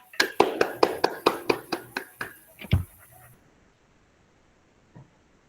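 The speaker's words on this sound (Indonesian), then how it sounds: "Kita kasih aplaus untuk kita semuanya." A short burst of brisk clapping from a small group of teachers in a classroom, loud and rhythmic for about three seconds before fading into quiet room tone.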